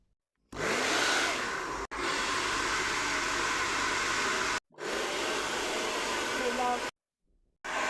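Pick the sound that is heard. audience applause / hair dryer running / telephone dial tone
hair dryer running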